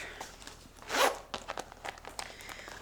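A zipper on a bag's larger bottom pocket is pulled in one quick, close rasping stroke, followed by faint handling rustles and small clicks.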